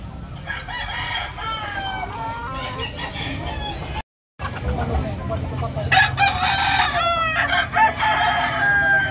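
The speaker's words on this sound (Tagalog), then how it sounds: "Napapakain muna tayo sa ating mga manok dito sa bahay natin." Backyard chickens clucking and cackling with a rooster crowing, a steady busy flock close by, with a brief dropout midway and louder crowing toward the end.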